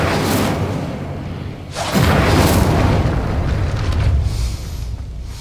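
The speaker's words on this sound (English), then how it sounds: "Incendio." The Incendio fire spell in Hogwarts Legacy erupts with a whooshing rush and a heavy, roaring boom of flame that swells loud and close, then rumbles on for several seconds.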